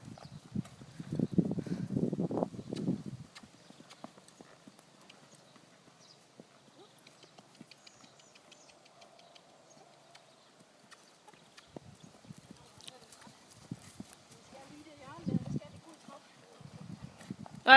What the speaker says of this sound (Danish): Og jeg tror du prøver at slå over i galop der.